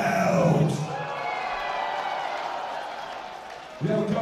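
At a metal show in Warsaw, an audience applauds and cheers for Cradle of Filth, a steady hiss of clapping and distant shouts, with a loud voice on the PA at the start and again near the end.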